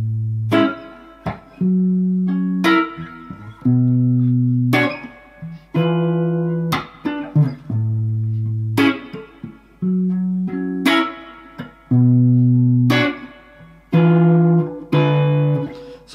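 Acoustic-style guitar strumming the verse of a song, a bass note followed by the rest of each chord in a relaxed repeating rhythm, close and clear with no voice.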